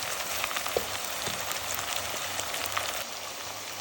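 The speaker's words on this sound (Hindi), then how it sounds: "तो अब हम इसमें डालेंगे लहसुन, अदरक और हरी मिर्च का पेस्ट और इसको भी अच्छी तरह फ्राई कर लेंगे" Chicken pieces frying in a pan with garlic, ginger and green chilli paste for a chicken biryani, giving a steady close broadband sizzle with small crackles and no talking.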